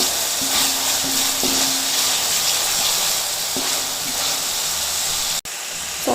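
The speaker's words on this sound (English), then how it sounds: "I'm going to add in the chopped tomatoes and the green chilies" Chopped tomatoes and green chilies sizzle in a hot pan, a steady loud hiss with a few light clicks of stirring and a brief dropout near the end, no speech.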